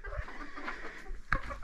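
A hen on a small home farm gives a few soft, low clucks close by, with one brief sharper call near the end, against quiet background ambience.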